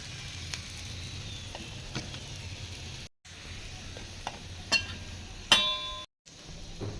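Food frying in a pan with curry leaves makes a soft, low sizzle. Scattered clinks and stirring knocks sit on top, broken by two brief silent gaps, with no talk.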